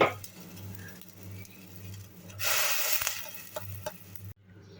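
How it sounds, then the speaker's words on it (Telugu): Rice flour stirred into hot water in a pot with the stove off, heard as close scraping and rubbing strokes with a steady low hum beneath and a louder rushing stretch midway, no voices. "బియ్యం పిండి వేసిన తర్వాత ఒకసారి బాగా కలుపుకొని"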